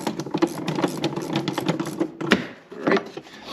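Socket wrench snugging down a bolt on a tractor's bolt-on hooks and diff lock pedal mount: a run of quick, close mechanical clicks and ratchet ticks, fairly steady, with a short pause before a final burst.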